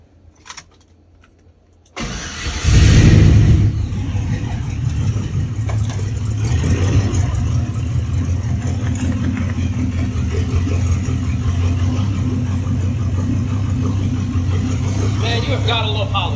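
A 1988 Chevy C1500 truck with a swapped LS engine cranks briefly, then catches with a loud surge and settles into a steady, deep, rumbling idle close by, after a quiet stretch.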